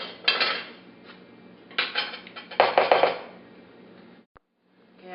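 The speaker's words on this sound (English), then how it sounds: "I'm going to just toss this" A dill, garlic and yogurt dressing is tossed in a bowl with utensils: bursts of close clinking and scraping against the bowl, separated by quieter pauses, ending in a brief silence.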